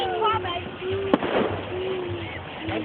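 A single sharp firework bang cracks at a distance outdoors, set against steady background noise and a faint whistling tone, with people talking nearby.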